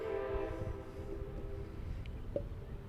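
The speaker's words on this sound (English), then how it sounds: "that was a train." A train passes at a distance, horn tones droning through a steady low rumble of rolling wagons that fills the whole stretch.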